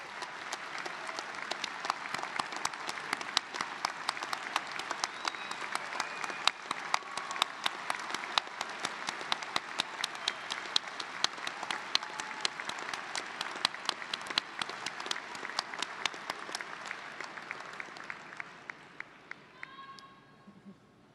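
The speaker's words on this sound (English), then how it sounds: "join me in giving them a round of applause" At a 2015 College of Engineering undergraduate graduation, the standing audience of graduates applauds their families in a long, sustained burst of many hands clapping that holds steady for about twenty seconds before tapering off.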